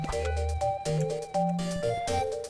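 A phone rings in the video game Beastieball: a loud, repeating electronic ringtone with bright beeping tones in short, evenly spaced bursts, heard on its own.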